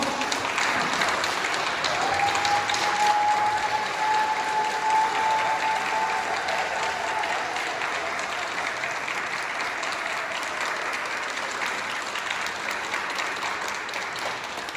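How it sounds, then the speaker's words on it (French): Sustained applause from a crowd, dense steady clapping lasting throughout at a fairly even level. "on va vous applaudir un peu pour votre formation"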